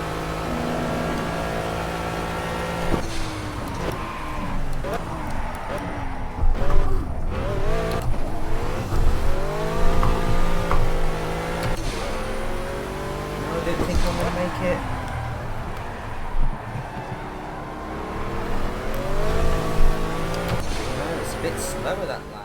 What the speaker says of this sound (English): there you have the Pagani Huayra, the stock one